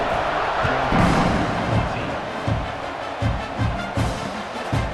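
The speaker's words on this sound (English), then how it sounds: "this crowd is buzzing after that last score" A stadium crowd in the EA Sports College Football 26 video game buzzes after a score, a dense roar of many voices with rising swells and deep thumps, loud and continuous throughout.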